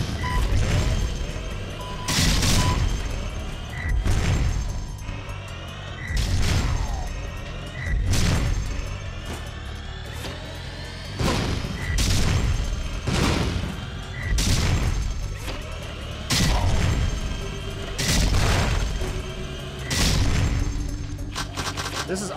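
Repeated bursts of gunfire from the video game Jak 3, loud booming volleys about every two seconds over busy game action, with a voice talking between shots.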